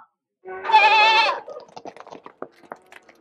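A goat on a farm gives one loud, wavering bleat lasting under a second, followed by faint scattered clicks and rustles.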